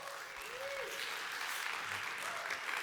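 A conference audience at a real estate event applauds, a dense, even wash of clapping sustained for the whole few seconds, moderately distant with a brief tonal whistle over it.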